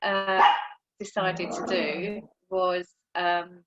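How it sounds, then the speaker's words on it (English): A dog nearby gives several short, loud barks in separate bursts while someone talks over and between them. "that's my dog."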